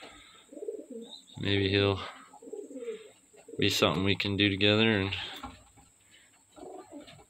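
Pigeons in a coop give deep rolling coos in two loud bursts with softer calls between them, close by, while a person talks quietly over the birds.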